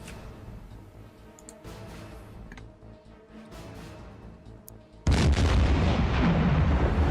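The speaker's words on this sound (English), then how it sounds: "Ship go boom!" A torpedoed ship explodes in a WWII submarine game aboard the USS Balao, a sudden loud roaring blast that follows several seconds of scattered distant booms and clicks and then sustains as a dense rumble.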